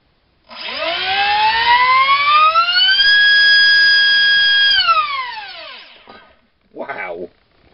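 A 4000kv T-Rex 450 helicopter electric motor spinning a GEMFAN 4045 carbon nylon prop on a 4-cell pack, rising to a loud, sustained whine at full throttle, holding steady, then winding down, with a short voice afterward.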